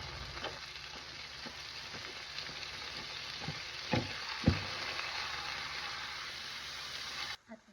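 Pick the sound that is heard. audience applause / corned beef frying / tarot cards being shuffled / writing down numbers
corned beef frying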